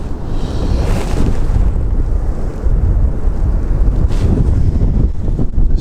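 Strong wind buffets the microphone on the bank of Pocklington canal, a steady, loud, low rumbling roar with gusts, and no speech.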